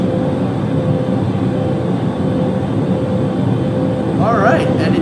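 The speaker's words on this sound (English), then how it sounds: "So as you can hear, we have a jet engine. It is at full blast." Inside an airplane cabin, the jet engines roar at full power as a loud, steady, broadband rumble. A voice is briefly heard near the end.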